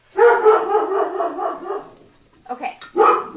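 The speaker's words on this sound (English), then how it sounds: "My dog's deciding to bark." A dog barks in a home kitchen during cooking, giving a drawn-out vocal outburst followed by two shorter barks, close and loud, with no talk.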